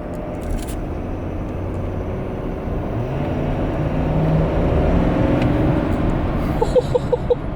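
A stock-emission Ford 6.7 Powerstroke diesel pickup drives and pulls hard under acceleration, a steady low engine drone and road rumble swelling louder toward the end, with a few short knocks near the close.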